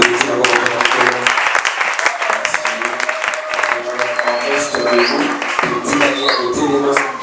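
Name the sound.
congregation applauding in church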